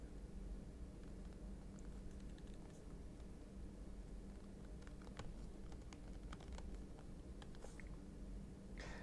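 Someone types an email address and password on a computer keyboard, a faint, steady patter of soft key clicks in irregular bursts over a quiet hiss.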